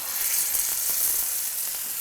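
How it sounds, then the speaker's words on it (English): Wagyu filet steaks seared in a hot oiled pan, giving a loud, continuous close-up sizzle of frying that stays steady throughout. "That's what you wanna hear as soon as you hit the pan. You wanna hear that sizzle."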